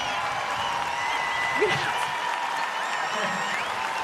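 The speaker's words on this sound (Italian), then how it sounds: "No, ma questo applauso è tutto solo per te." An audience applauds a singer at a live performance, with a steady wash of clapping running throughout while voices talk over it.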